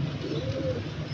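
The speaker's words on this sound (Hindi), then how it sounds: "ये चीना रामपुरी कबूतर है" A Rampuri cheena breeder pigeon gives a soft, low coo close by, one brief throaty call over a faint steady background, with no speech.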